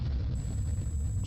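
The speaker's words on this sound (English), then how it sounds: "it's probably the experiment starting is what that loud explosion sound was" A loud explosion from an anime plays as a heavy, sustained low rumble that fills the whole moment, with no talk.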